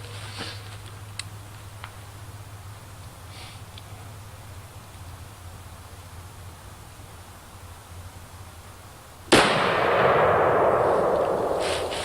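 A single sharp, loud gunshot from a heavy-recoil gun at an outdoor shooting range cracks close by after a long stretch of quiet background hum, followed by a sustained wash of broadband noise.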